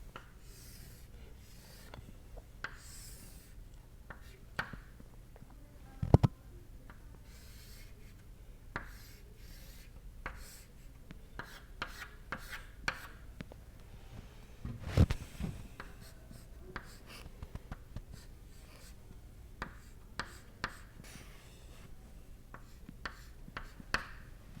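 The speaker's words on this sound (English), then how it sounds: "So, I will draw a schematic of this problem in the board." Chalk drawing a schematic on a lecture-hall board, with quiet irregular scratches and taps plus a few sharper knocks, continuing for a long stretch with no speech.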